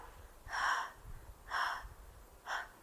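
Three quick, breathy exhalations, evenly spaced about a second apart, like someone panting; a voice imitating heavy breathing against faint background noise.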